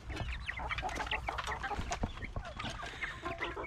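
Meat-breed chickens on a farm cluck continuously in a busy flock, many overlapping calls close by with scattered sharper squawks.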